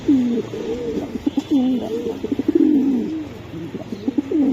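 Pigeons coo in a steady series of low, throaty calls that overlap and repeat close to the microphone, with no talking.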